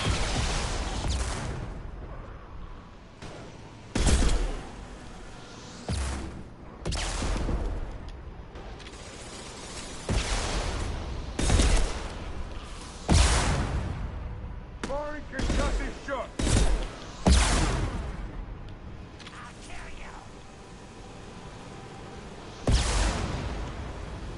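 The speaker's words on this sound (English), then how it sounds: "these stupid Vorcha are shooting. Lots." Vorcha enemies fire guns in Mass Effect 2, with repeated loud bursts of gunfire and impacts scattered irregularly through a busy combat scene, some shots close and sharp, others lighter, all under continuous game noise.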